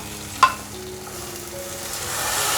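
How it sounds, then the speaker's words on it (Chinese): Glutinous rice goes into a wok with oil from fried enoki mushrooms; one sharp clack is followed by a hiss of stir-frying that swells steadily, close and without voices. "把糯米放进来炒"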